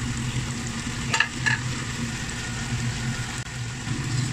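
Chicken thigh stir-frying in a hot pan for a Chinese-style cashew chicken dish, with a steady close sizzle and a couple of sharp utensil clinks against the pan early on.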